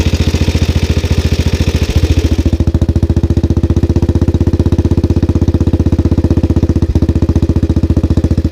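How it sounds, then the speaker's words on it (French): A 1929 Terrot OS 247 cc motorcycle engine running nearby, a rapid even chug that steadies after a brief change in tone, loud and continuous. "Ah, le bruit, c'est ouf. Ça, c'est de la moto"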